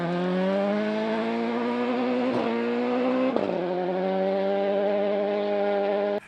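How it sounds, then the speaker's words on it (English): Suzuki Swift two-wheel-drive rally car at speed on a gravel stage of the 2021 South Canterbury Rally in New Zealand, its engine holding a loud, steady high-revving howl with two brief gear-change dips, close and unbroken throughout. "Jordan Grant next in the Suzuki Swift."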